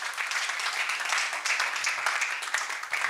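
Audience clapping at a World Asthma Day ministry gathering, a full steady burst of many hands throughout, with a voice briefly audible underneath.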